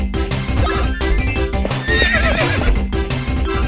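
In the video game Miitopia, a horse whinnies loudly and gallops with rapid clip-clop hoofbeats over game music, the neigh rising clearly in the middle of the stretch.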